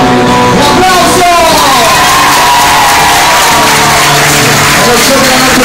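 A live concert audience at a café in Dubai cheers and applauds loudly, with shouts, whoops and voices layered over continuous dense clapping throughout.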